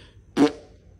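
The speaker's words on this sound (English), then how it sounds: "Why are you farting?" A pet cat named Patches lets out a single short, fart-like burst, close and fairly loud in an otherwise quiet room.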